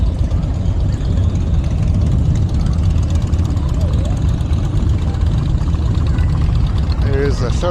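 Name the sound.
shuttle bus engine idling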